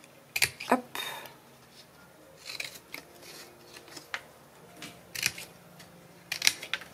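Scissors snipping paper for a scrapbook baby album, several short crisp cuts in quick clusters close to the microphone, with soft handling noises between them.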